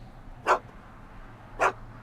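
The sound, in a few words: dog barking in a Back to the Future video game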